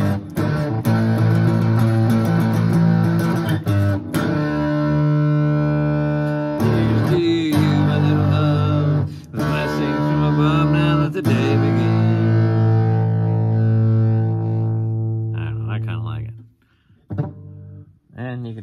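Heavily distorted electric guitar through a Metal Master distortion pedal plays sustained, buzzing chords with thick harmonics, loud and close, before dropping into short choppy notes near the end.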